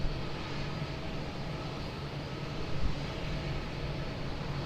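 A plane takes off at Lisbon Airport as a broad, steady engine roar, distant and constant, that fills the whole stretch with no voices.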